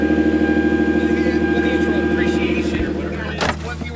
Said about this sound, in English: I'm gonna give you guys a quick cold start so you guys could hear what the car sounds like